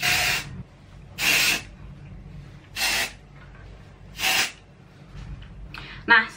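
Dry shampoo aerosol hisses onto the scalp in four distinct bursts of about half a second each, evenly spaced and close by, with quieter handling noise in between.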